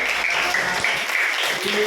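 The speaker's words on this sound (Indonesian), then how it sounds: "berikan tepuk tangan untuk Tantri dulu" A small group applauding for a participant in a classroom or training session, steady clapping at moderate volume with some voices mixed in.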